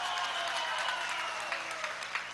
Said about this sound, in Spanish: un aplauso para este hombre